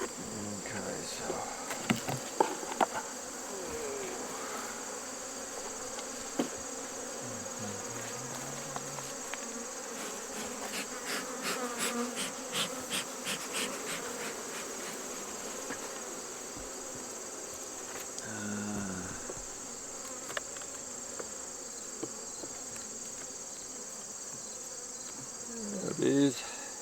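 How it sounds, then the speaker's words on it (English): Dense, steady buzzing of many honeybees at an open beehive during a West Virginia beekeeping visit, close and continuous throughout, with some handling noises and faint voices. "Bees."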